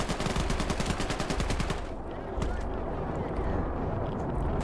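Rapid bursts of machine-gun fire from a tank carrying three machine guns in a WWII Eastern Front battle in Call to Arms: Gates of Hell, with a fast rattling run that stops, then scattered distant shots and rumbling battle noise.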